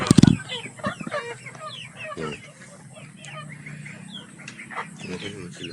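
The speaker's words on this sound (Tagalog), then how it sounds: "ito na yung mga manok natin na dinala natin last time." Chickens on a farm cluck and call close by in scattered bursts, opening with a sharp loud squawk, then lighter overlapping clucks and chatter continuing throughout.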